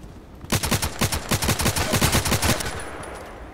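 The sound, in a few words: gunfire from the video game Contract Wars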